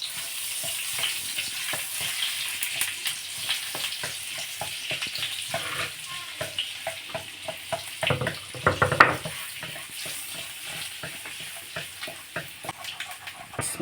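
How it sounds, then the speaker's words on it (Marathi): Butter and oil sizzle steadily in a hot pan for fried rice, a continuous crackling hiss with scattered pops and scraping stir sounds, close and fairly loud throughout, with a brief louder burst midway. "आणि बटर, तेलात हे बटर सोडून द्यायचं,"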